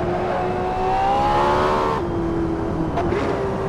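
A car in a sim racing video game holds a loud, steady engine drone that climbs in pitch, then drops sharply as the driver lifts for a corner and climbs again. No voices.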